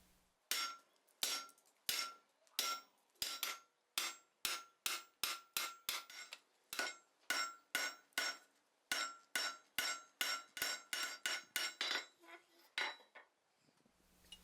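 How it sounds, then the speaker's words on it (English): Hammer peening out forged steel bar stock at a blacksmith's anvil, a steady run of about two dozen sharp, ringing metallic strikes at an even rhythm, close and loud. "I'm just going to peen this out to a token gesture"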